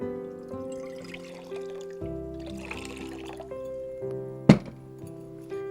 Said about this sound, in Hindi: एक गहरा बर्तन या सॉस पैन लेंगे, उसमें डालेंगे पानी